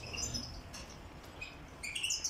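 Goldfinches chirp and tweet in short, high bursts over a steady low background hum, fairly close.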